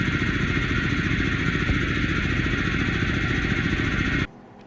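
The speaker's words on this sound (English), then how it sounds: "Now I'm going to show a video of it running on a engine." A 3D-printed Lego vacuum engine runs with a steady, dense mechanical chatter and rapid rhythmic ticking, loud and close, continuing evenly before cutting off abruptly near the end.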